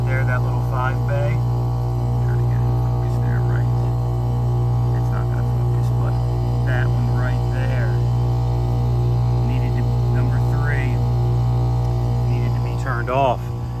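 A failed ECM blower motor in a furnace gives off a steady, loud electrical hum that runs unbroken throughout. Faint chirping sounds come and go over it.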